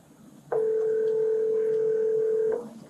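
A telephone sounds a single steady electronic tone that holds for about two seconds against a quiet background.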